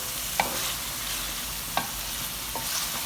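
Mutton fries with spices in a karahi, a steady close sizzle broken by three isolated spoon clicks against the pan.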